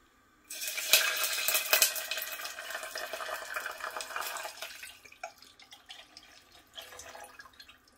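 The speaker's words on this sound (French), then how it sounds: "Je vais ajouter l'eau." Water poured into a tajine of simmering sauce, a steady splashing pour that starts abruptly, stays loud for several seconds, then tapers into softer bubbling and sizzling.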